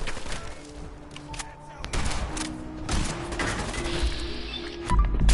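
Bursts of gunfire from the video game Fallout 4 crackle in rapid, uneven volleys over a steady game background, moderately loud and close.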